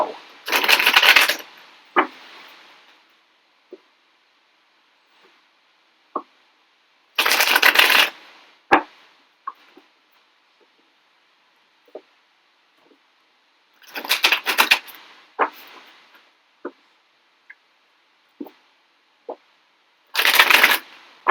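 Tarot cards being shuffled produce four crisp riffling bursts spaced several seconds apart, with quiet taps and clicks of card handling between them in an otherwise silent room.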